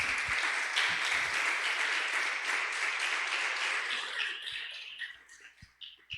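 Audience applause at a church gathering, a dense, steady wash of clapping that fades out over the last two seconds into a few scattered claps.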